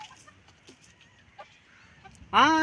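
Chickens inside a coop give faint, scattered clucks against a quiet background, then one bird lets out a sudden loud, harsh squawk at the end.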